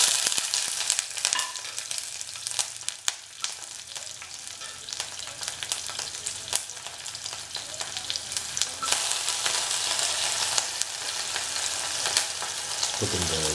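Loud, steady sizzling of a big onion piece frying in hot oil, with occasional stirring clatter and no voices.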